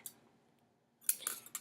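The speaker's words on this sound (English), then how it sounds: "you just take your pair of scissors and you just clip it right off" Scissors snip off excess candle wick: a faint brief click, a pause, then a crisp cluster of sharp snipping clicks close to the microphone.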